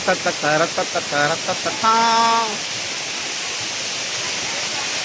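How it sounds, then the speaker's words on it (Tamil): A waterfall at Mankulam in Kerala roars as a broad, continuous rush of falling water, steady and loud, while someone speaks over it at the start. "நாங்கள் வந்து கேரளா மாங்குளத்துல பக்காவான ஒரு அருவியில குளிக்க போறோம்"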